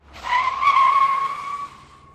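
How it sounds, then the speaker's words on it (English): A car brakes hard on a city street in Manhattan, its tires letting out one sustained, loud screech that swells fast and then fades over about two seconds. "He stopped his car with a screech"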